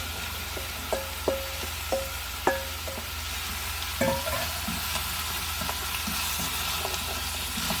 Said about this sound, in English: And you just want to stir it around